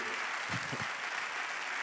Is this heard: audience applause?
yes